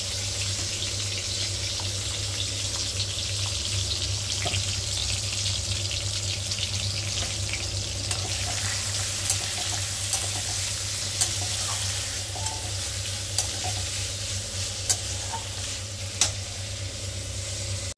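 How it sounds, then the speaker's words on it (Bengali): Onions browning in a frying pan give off a steady, close sizzle with light stirring clicks and a constant low hum beneath, with no voices. "তাহলে পেঁয়াজ ভাজা ভাজা হয়ে গেছে, ব্রাউন হয়ে যাওয়ার পর"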